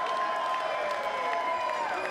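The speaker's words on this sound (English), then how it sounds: "standing on their feet, cheering for the WSW Women's Champion" A wrestling crowd in Adelaide cheers for the WSW Women's Champion during a title match, a steady, dense roar of cheering and applause filling the whole moment with some tonal ringing over it.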